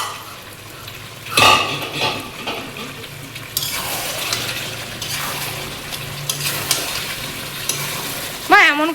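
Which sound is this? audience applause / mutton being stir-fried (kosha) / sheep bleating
mutton being stir-fried (kosha)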